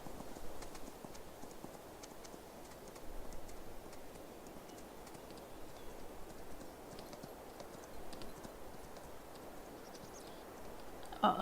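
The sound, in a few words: horse hooves clip-clopping in video game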